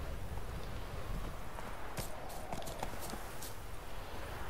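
Horse hooves clip-clopping on the ground at a trot in the video game The Witcher 3, moderately close, over a low steady background hum.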